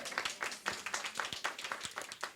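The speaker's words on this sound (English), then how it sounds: "I want to give those babies a round of applause" Applause from an audience at an early childhood press conference, a short burst of faint, fairly sparse clapping with a quick irregular rhythm.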